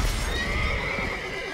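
A horse in The Witcher 3 gives a clear close whinny lasting over a second, with soft hoof clip-clops underneath.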